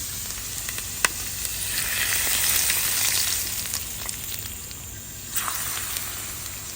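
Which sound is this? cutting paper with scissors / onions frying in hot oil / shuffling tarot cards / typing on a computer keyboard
onions frying in hot oil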